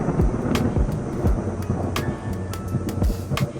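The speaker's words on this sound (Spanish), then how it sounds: "pudimos presenciar de una tormenta espectacular que nos dejó asombrados por su intensidad" An intense thunderstorm at a hotel spa in Guatemala: deep, continuous rolling thunder with steady rain, loud and close, with sharp cracks and crashes breaking through the rumble.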